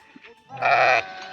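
A single loud, close bleat from a ewe with two lambs, wavering and lasting under a second, following a few faint quieter sounds, outdoors at dusk.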